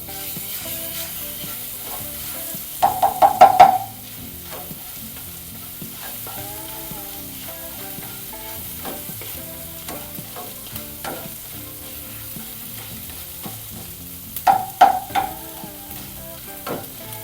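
Half a teaspoon of ginger garlic paste fries in hot oil with a steady soft sizzle, and two short bursts of utensil scraping and stirring sound close by.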